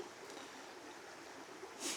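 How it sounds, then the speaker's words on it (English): Quiet, steady rush of a stream flowing in the woods, faint and continuous, with no voices. "while we listen to the water."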